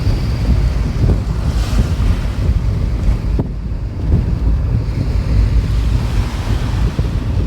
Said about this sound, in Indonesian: Pemandangan laut ya teman-teman.